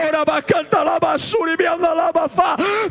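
A preacher's loud, strained shouting during an impassioned sermon, a continuous hoarse cry with rising and falling pitch and brief breaths, close and forceful.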